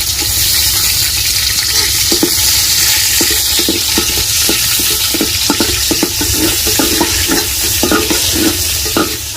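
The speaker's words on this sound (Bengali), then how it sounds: "লঙ্কাগুলো ভালো করে ভাজানো হয়ে গেছে" Green chillies fry in oil in a pan for an Indian-style home-cooked khichri, with a steady loud sizzle and repeated scraping clicks of a spoon stirring throughout.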